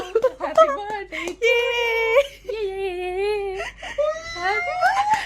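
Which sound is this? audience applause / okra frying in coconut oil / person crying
person crying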